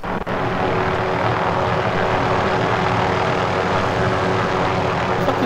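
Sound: helicopter flying in a video game

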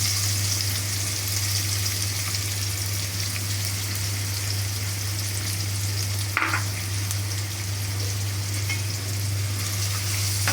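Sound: frying chopped onions and cinnamon in hot oil

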